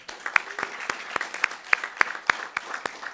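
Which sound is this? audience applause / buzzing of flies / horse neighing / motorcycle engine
audience applause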